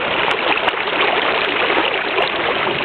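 Floodwater gushes out of overflowing storm drains on a street during the 2008 Mississippi River flood in St. Louis, a loud, steady rushing roar with no pauses.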